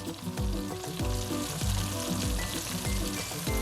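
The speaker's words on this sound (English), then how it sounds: "As the cherry tomatoes cook, they're going to start to release all of their juices." Cherry tomatoes with a little salt cooking in a pan, their juices releasing as they simmer, give a steady close sizzle and bubbling with rhythmic stirring or mashing thumps and no talk.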